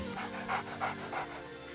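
A pet dog pants indoors in quick, soft rhythmic breaths, close and fairly quiet, with no other sound over it.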